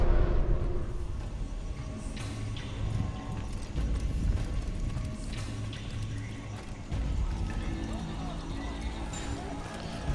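Horse hooves clip-clop at a steady trot in the Assassin's Creed video game, moderately loud amid ambient game sounds, with a voice speaking over parts of it.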